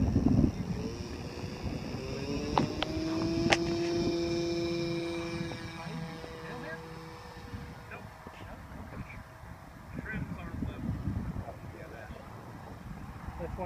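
Debonair SPAD RC trainer model airplane engine running at half throttle, a steady buzzing drone with shifting pitch as the plane passes overhead, heard outdoors under wind noise and a voice.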